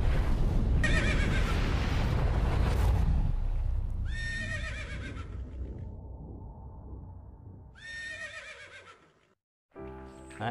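Horses on a farm raising cremello horses neigh in loud, shrill whinnies, with three distinct calls at intervals over a rumbling, noisy background that fades, followed by a brief different sound at the end.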